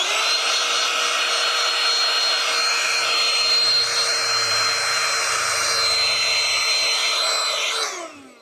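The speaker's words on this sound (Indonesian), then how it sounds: "sekarang udah pakai sikat ujungnya" A portable car vacuum cleaner fitted with a brush nozzle runs with a loud, steady high-pitched whine and an airy rush. The motor holds steady for about eight seconds, then winds down and cuts off at the end.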